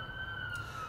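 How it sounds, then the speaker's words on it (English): An ambulance siren passes nearby on a street, a steady high wailing tone over low traffic rumble, heard in a brief loud stretch with no talking. "Had to let that ambulance pass. It was pretty loud and obnoxious and unpleasant."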